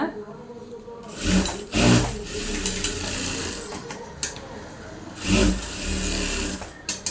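A sewing machine stitching a blouse, two bursts of rapid mechanical whirring close by, with someone talking between them.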